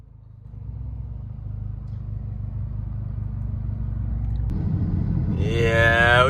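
A Ferrari supercar's engine rumbles low and steady while driving, the drone slowly building in strength, with music or a voice rising over it near the end.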